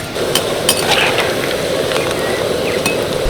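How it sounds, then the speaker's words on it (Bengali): Papri crisps frying in hot oil give a steady, dense sizzle that holds close and loud throughout, with a few faint clinks from a utensil on top. "এগুলো কিন্তু খুব কম সময়ের মধ্যে ভাজা হয়ে যায়।"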